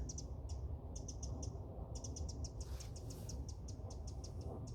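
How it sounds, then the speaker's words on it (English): A reed warbler sings outdoors, its rapid repeated high chirping phrases coming in bursts over a steady, fairly loud background rush, with no voices. "That reed warbler."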